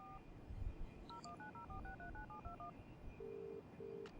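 Touch-tone phone dialing from the Broken Sword 3 video game: a quick run of short electronic keypad beeps, then two longer steady tones over a quiet background hum.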